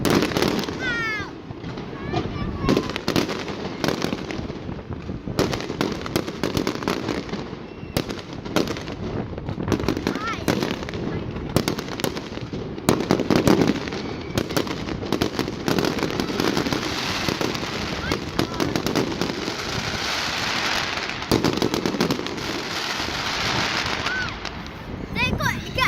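Fireworks display over Liverpool: dense, continuous crackling and popping bursts from a distance for the whole stretch, with people talking and exclaiming throughout.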